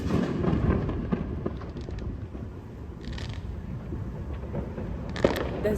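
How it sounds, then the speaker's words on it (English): Fourth of July fireworks go off outside, distant and faint, a low rolling rumble broken by a few soft pops and crackles. "All these fireworks are for me"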